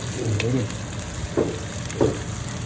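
Chicken curry frying in a covered pan, a soft steady sizzle with a few louder stirring scrapes and bubbling bursts, fairly close and moderate in level.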